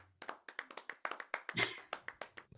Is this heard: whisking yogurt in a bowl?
no